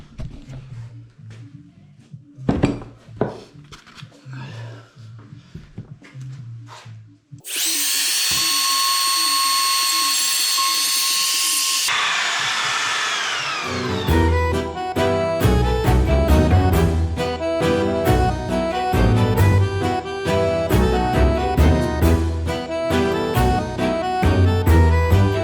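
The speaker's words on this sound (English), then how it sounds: "So the first 3 cuts I'll make with this, which will clean most of the wood away" A handheld router fitted with a straight cutter whines at high pitch as it cuts away wood for drawer dovetail joints on a dovetail jig, a loud steady burst of several seconds between quieter handling sounds and music.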